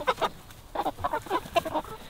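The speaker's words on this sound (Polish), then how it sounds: "O, tu jest kogucik." Broiler chicken rooster on pasture clucking in a quick, uneven series of short calls, close by and fairly quiet, with no talk.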